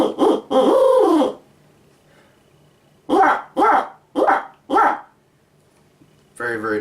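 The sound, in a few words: owl hunting call blown to imitate an owl's laugh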